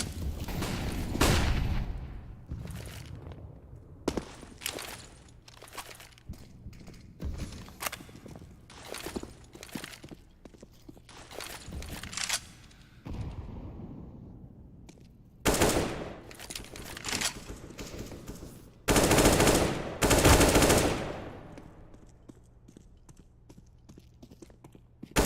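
Gunfire in the CS:GO video game comes in several loud bursts of rapid shots and single cracks, spread irregularly over the stretch with quieter game noise between and no talking.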